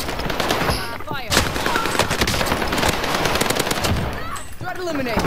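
Close, rapid machine gun fire in Call of Duty Warzone rattles continuously for several seconds in dense, overlapping bursts, with game radio chatter and voices heard underneath.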